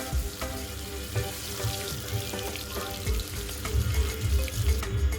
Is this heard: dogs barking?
no